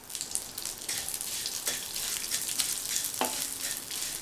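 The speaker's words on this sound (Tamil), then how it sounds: "மீதி இருக்கிற அதே நெய்யிலேயே 1/4 கப் சேமியாவை சேர்த்து வறுத்துக்கலாம்." A quarter cup of vermicelli roasting in ghee in a pan for semiya javvarisi payasam, a steady close sizzle broken by a few sharp scraping stirs and light crackles.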